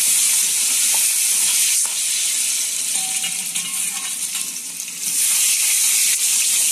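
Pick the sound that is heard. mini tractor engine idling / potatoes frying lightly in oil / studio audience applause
potatoes frying lightly in oil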